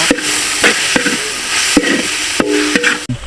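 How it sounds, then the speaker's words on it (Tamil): Cleaned mutton intestines fry on a tawa outdoors in a village, giving a loud continuous sizzle broken by several sharp metal scrapes and stirring clanks, with no voices. "இப்போ பார்த்தீங்கன்னா க்ளீன் பண்ணி வச்ச போட்டி நல்லா ஃப்ரை பண்ணிடலாம்"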